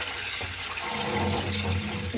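Water sprinkled over sprouts cooking in a pan, a continuous close splashing, hissing wash of liquid, moderately loud and steady.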